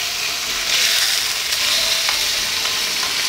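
Salmon fillets sizzle steadily in a hot frying pan, a close, dense hiss of spitting oil with faint clicks, continuous and loud with no talking.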